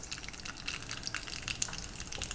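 Mustard seeds splutter in hot tempering oil, throwing quick irregular pops and crackles over a soft, steady sizzle, close and fairly quiet.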